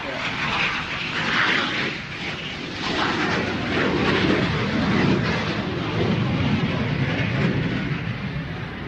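A plane in a solo airshow display roars past in a broad, sustained rumble that swells and fades over several seconds, heard outdoors from a distance.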